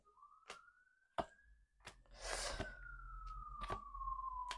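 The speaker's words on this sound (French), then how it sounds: "Désolée si vous entendez les sirènes dehors." Fire engine sirens wail outside, one long, steady tone drifting slowly up and then down, faint and distant, with a few sharp clicks and a burst of rushing noise nearby.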